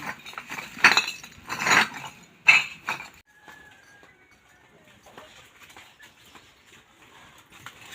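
Collected glass bottles set down one after another with bright clinks and knocks, several close, clear hits in the first few seconds, then quiet handling noises.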